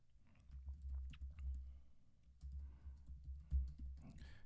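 Fingers typing a trivia question on a computer keyboard, a steady run of soft, close clicks and taps with brief pauses between bursts.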